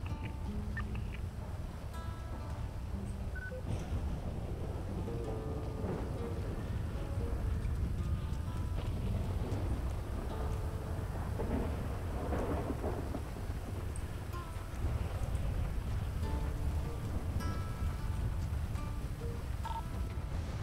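Rainfall and rolling thunder heard in GTA roleplay on a NoPixel server, a steady wash of rain with low rumbles building and fading throughout and no talk over it.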